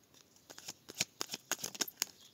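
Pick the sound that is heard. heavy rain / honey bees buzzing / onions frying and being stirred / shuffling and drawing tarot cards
shuffling and drawing tarot cards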